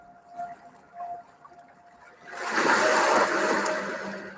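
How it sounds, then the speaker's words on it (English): Ocean waves wash in the background during a meditation, a quiet, faint hush for the first two seconds that swells into a loud, broad rushing surge, then eases slightly. "begin to bring your awareness to the sound of the waves in the background"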